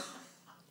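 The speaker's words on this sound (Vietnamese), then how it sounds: "Nghe bác ho sợ quá." A person gives a single short, husky cough close to the microphone, with no talking around it.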